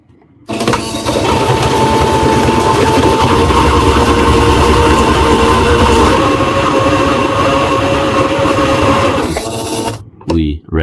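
Sewing machine runs a straight stitch through stretch Lycra fabric, its motor whirring loudly and steadily for about nine seconds, starting and stopping abruptly.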